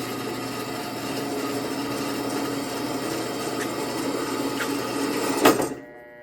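Drill bit boring into a steel brake rotor, a steady grinding whine that builds in strain before a sharp bind and then cuts off into quiet, close and loud with no voices.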